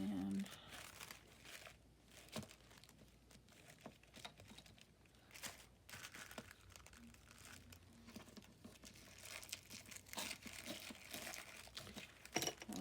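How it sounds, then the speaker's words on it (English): Paper being torn slowly against a ruler for a collage, dry crinkling and ripping in uneven bursts, close and fairly quiet, with some handling noise around it. "So let's do a little tear here."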